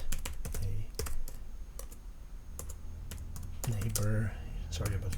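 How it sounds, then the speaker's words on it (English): Typing on a computer keyboard, a brisk run of sharp key clicks and taps close by, with a voice speaking partway through. "sorry about typing"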